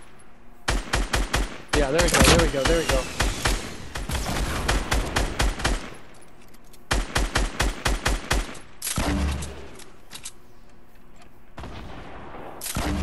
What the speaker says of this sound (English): Heavy shots coming from west.